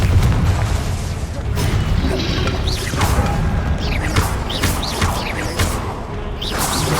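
Repeated fiery blasts from the Confringo explosion spell in Hogwarts Legacy, heavy booms and crackling bursts arriving in quick succession amid combat noise, with a voice shouting spell names over them.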